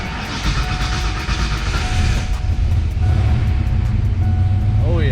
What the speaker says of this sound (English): let's go start the car up and make sure it's going to charge